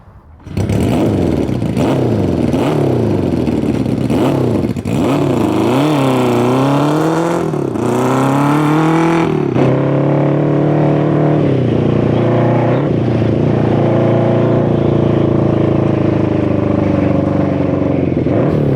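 An abandoned Honda CB350F with a backyard big bore kit and two 24 mm flat slide carburetors with unknown jetting does a burnout while running poorly. The engine is loud and close, revving up and down repeatedly before holding a rough, sustained roar.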